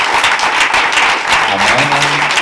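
A church congregation applauds steadily throughout, a dense, continuous wash of clapping from many hands at close range, with faint voices murmuring underneath.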